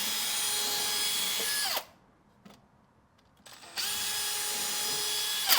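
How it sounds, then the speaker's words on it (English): A power drill pre-drilling screw holes in the back of a truck cab during rust repair, whining loudly and steadily, pausing for about two seconds, then starting up again at full speed. "Now I'm just going to pre-drill a few holes in the back,"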